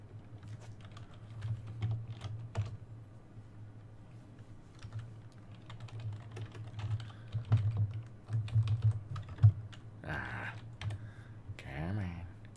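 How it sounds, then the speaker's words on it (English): Quick, uneven bursts of typing on a computer keyboard during a late-night binaural ASMR livestream, crisp clicks close to the mic with short pauses and a flurry of louder keystrokes toward the end. "Type in this and copy paste that."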